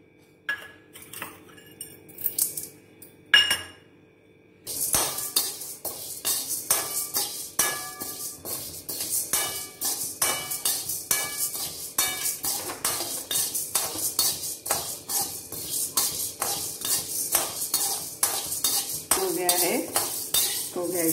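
Chana dal is roasted and stirred in a pan, giving a busy run of metal spoon scrapes and clinks against the pan, steady and close, with faint dry sizzling and no talk.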